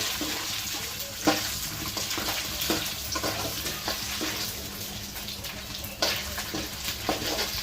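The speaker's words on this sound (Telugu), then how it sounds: "పల్లీలు మట్టుకు మంచిగా దూరగా వేగినాయి" Peanuts frying in a pan, a continuous close hiss of sizzling oil with scattered crackles and occasional scraping knocks as they are stirred, with no talking.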